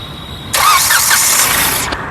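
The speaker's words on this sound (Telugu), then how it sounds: "సింగిల్ సెల్ఫ్లో కార్ స్టార్ట్ అవుతుంది" A 2017 Hyundai Grand i10 Sportz engine cranks and catches on the first try, then settles into a steady, loud idle close by; no talking.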